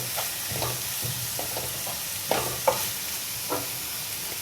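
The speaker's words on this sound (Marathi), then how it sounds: "आता कांदा लालसर होईपर्यंत चांगला भाजून घ्यायचा आहे" Onions frying in oil in a pan, a steady close sizzle with intermittent scraping stirs and a few sharper clatters, no talking.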